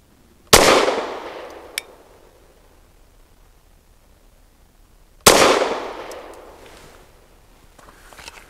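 Two loud, close gunshots from a Caracal Enhanced F pistol, spaced about five seconds apart, each ringing out and decaying into quiet outdoor air.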